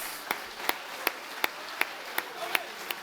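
A small church congregation gives slow, evenly spaced claps, about one every third of a second, steady and moderately loud over a faint room background, with no voices over it.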